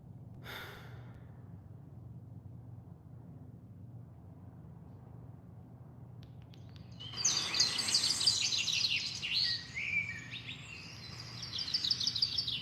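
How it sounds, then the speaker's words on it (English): Recorded birdsong played in the background chirps and trills after a quiet stretch, bright calls rising for several seconds, soft and somewhat distant. "if you can hear the bird sounds that I'm playing in the background"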